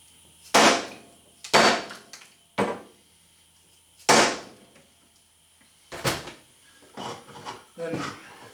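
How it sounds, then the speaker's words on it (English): Hammer whacks on aluminum skin clamped in a vise during an RV-10 aircraft tail cone build, seven sharp impacts at irregular spacing, loud and close with short ringing decays and no talk. "just give it a whack right there next to the vise"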